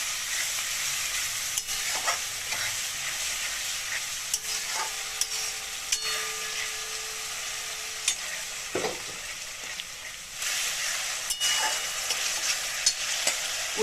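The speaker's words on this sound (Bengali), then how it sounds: "অল্প অল্প করে জল দিয়ে এটাকে কষিয়ে নেবো" Dry spices sautéing in a pan with a splash of water for a bhindi and besan curry, a steady hissing sizzle with occasional clicks and scrapes of stirring throughout, no voices.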